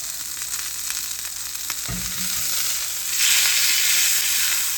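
Sous vide cooked food searing on its sides in a hot pan, a steady close sizzle and fry with a brief low thump near the two-second mark and the sizzle growing louder toward the end.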